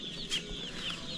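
A young meat chicken chick on a small farm gives a few high, thin cheeps at close range over a low background hum, with no talk.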